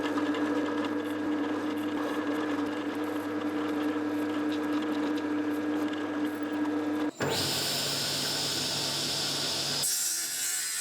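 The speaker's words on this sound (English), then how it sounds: "I strapped the very thin piece to a bigger piece of wood, for it to be stabilized while I drilled a slot for the tang." A drill cuts a slot for a knife tang in thin elm burl wood strapped to a larger block, a steady buzzing motor that shifts abruptly to a harsher, brighter grinding partway through, close and continuous.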